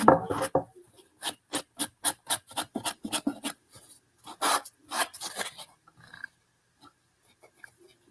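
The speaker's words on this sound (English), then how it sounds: "Sand the edges." Edges of a decoupage piece being sanded by hand, a series of quick rhythmic rasping strokes close by, about a dozen scrubs in bursts, then tapering to faint scratches and quiet.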